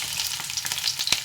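Garlic and onion sizzle and crackle steadily in hot oil as they are sautéed, with small pops throughout. The sound is close and there is no talking.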